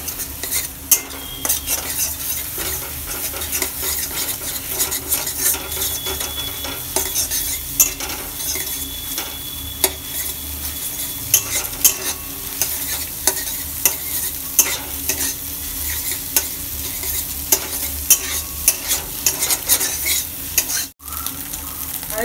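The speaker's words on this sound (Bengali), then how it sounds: "সামান্য হলুদ, এবার এটাকে আমি নেড়ে চেড়ে ডিমের ঝুরি বানাবো।" Egg with turmeric sizzles in a frying pan while a utensil stirs and scrapes it, giving repeated sharp clicks and scrapes over a constant frying hiss, close and fairly loud.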